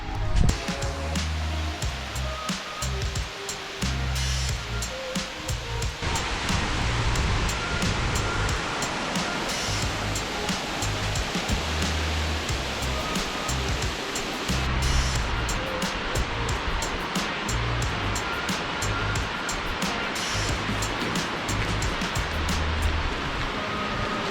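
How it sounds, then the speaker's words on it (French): Rushing water of a waterfall beside a mountain hiking trail on the GR20 in Corsica, a steady broadband roar that continues unbroken and fairly loud throughout, with some low rumble and no talk. "Et en bas, il y a une cascade."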